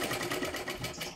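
Sewing machine stitching a princess-cut blouse, a fast steady mechanical whir with rhythmic needle pulses running continuously for a moment, no talking.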